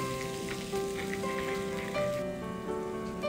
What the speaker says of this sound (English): again saute this for 1 minute on a medium flame.